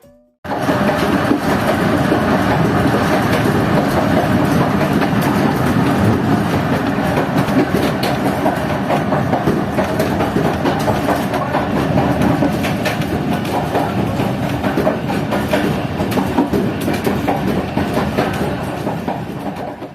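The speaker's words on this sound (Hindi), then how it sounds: "तो दोस्तों इस वक्त आप देख सकते हैं कि हमारी ट्रेन एक शार्प कर्व ले रही है" A passenger train running, heard from the last coach, a loud continuous rumble and rattle of wheels on track that holds steady for the whole stretch after a brief quiet start, with no talking.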